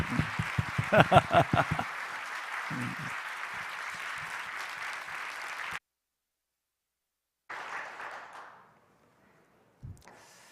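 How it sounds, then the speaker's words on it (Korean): Congregation applause during a Korean church evening worship service, a loud burst of clapping that settles into sustained applause, cuts off abruptly, then returns briefly and fades. "오늘 저녁 은혜를 기다립니다 하는 마음 담아 박수"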